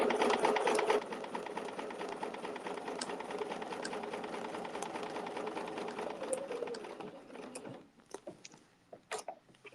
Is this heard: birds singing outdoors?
no